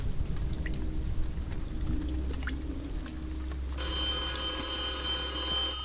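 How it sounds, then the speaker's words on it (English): A telephone in a horror video game starts ringing partway through, a shrill, continuous electronic ring that cuts in over a low, rumbling ambient background. "Oh, the phone is ringing."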